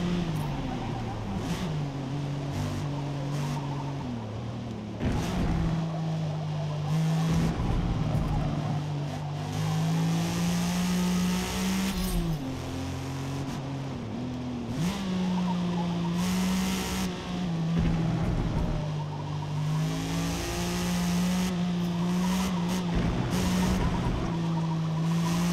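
A race car engine in Forza Motorsport roars continuously and loudly, its pitch rising and falling through gear changes and corners, with occasional tyre noise and brief gaps across the lap.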